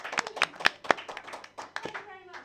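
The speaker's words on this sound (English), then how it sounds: "can we have a round of applause for our players?" A small audience gives brief, sparse clapping for the players at the close of a tabletop adventure game session, a handful of separate claps mixed with voices talking over them.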